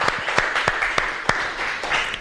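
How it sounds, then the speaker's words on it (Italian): Studio audience applauds on an Italian Sunday television show, a brief burst of clapping with distinct individual claps standing out from the crowd. "Un applauso a Fabian."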